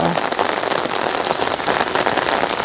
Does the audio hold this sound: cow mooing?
no